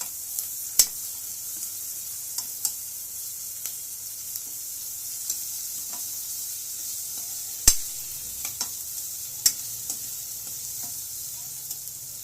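Ginger garlic paste fries in a pan for a mutton head masala sherwa, a steady close hiss of sizzling oil broken by occasional sharp clicks and scrapes of stirring, with no voices.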